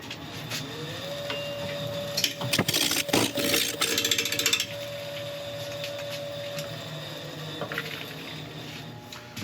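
A wood lathe turning a rotten elm blank at about 800 RPM, a steady motor hum with a bowl gouge chattering and scraping against the spinning wood in rough bursts near the middle, close and moderately quiet.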